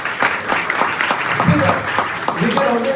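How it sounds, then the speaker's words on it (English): Audience applause at a public awareness event on the Right to Services Act in Mumbai, scattered sharp claps at moderate loudness with voices talking through them. "I think they deserve the round of applause"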